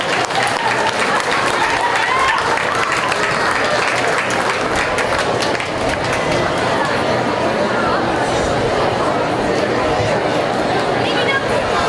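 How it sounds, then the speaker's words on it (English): Sustained crowd applause fills a county fair show ring during a feeder calf class, dense and loud from start to finish, with scattered chatter mixed into the clapping. "Give another round of applause"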